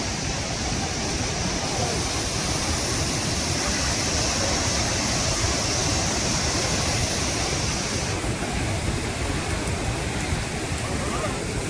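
Dense, continuous roar of Athirappilly waterfall in Kerala, heard close and loud with heavy spray, a steady wall of rushing water with no pauses and no talk.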